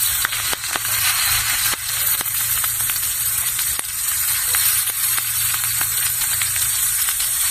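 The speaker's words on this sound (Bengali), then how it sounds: "তেলটা গরম হয়ে গেছে, আমি মরিচ দিয়ে দিচ্ছি।" Chilli sizzles steadily in hot oil in a miniature wok, a continuous close crackling hiss punctuated by small sharp pops and ticks.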